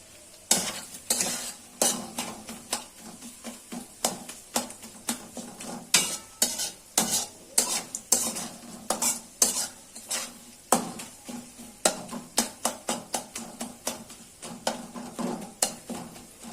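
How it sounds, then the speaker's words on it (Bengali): Eggs, green chillies and onion fry in a pan for a homemade pasta, with a soft sizzle under repeated scraping and clinking strokes of a spoon stirring against the metal in a brisk, uneven rhythm, close up and unvoiced. "ডিম আর মরিচটা ভাজা হয়ে গেছে, সাথে পেঁয়াজ সবটাই ভাজা হয়ে গেছে"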